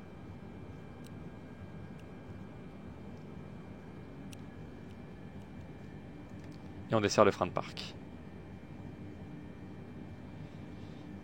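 A light aircraft's engine in a video game drones low and steady at idle, fairly faint, while taxiing toward runway 29; someone speaks briefly partway through.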